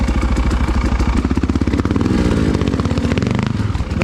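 A big Honda motorcycle engine roars loud and close while riding winter single track, its throttle pulsing in rapid rough bursts with clattering revs throughout.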